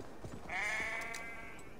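A sheep in Assassin's Creed Valhalla gives one clear, drawn-out bleat in the middle, fairly near, against a quiet game ambience with no talk.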